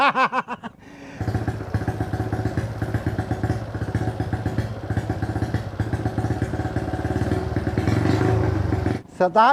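A hard-starting motorcycle with a weak throttle response cranks and catches, then runs with an uneven, chugging idle for several seconds before cutting out. A voice is heard briefly at the start and end.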